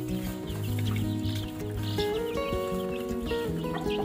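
Yellow parrot chicks chatter and chirp continuously while pecking at scattered grain, a dense busy mix of bird calls close by with no talk.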